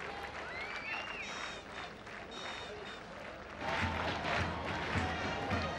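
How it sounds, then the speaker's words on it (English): A capacity crowd at Askiriya Stadium for a 1996 World Cup cricket match between Sri Lanka and Kenya fills the background with steady murmuring and cheering that swells louder partway through, under a commentator's voice. "So capacity crowd at the Askiriya Stadium."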